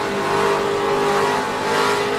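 NASCAR race car at the 2012 Lucas Oil 150 accelerating hard as the driver gets on the gas, a steady loud engine roar from on board that holds for about two seconds with no talk.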